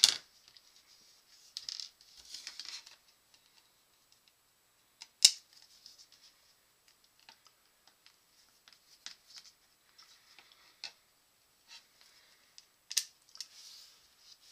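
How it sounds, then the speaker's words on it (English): Plastic standoff being screwed by hand onto a mounting screw, heard as faint, close, sparse ticks and scratchy clicks in irregular bursts over near silence. "screw the plastic standoff onto the top of that screw"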